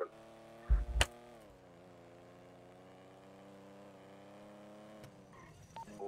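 A car drives in the GTA video game, a steady mid-pitched engine drone that holds fairly level, with a brief loud thump early on and a change in the engine note near the end.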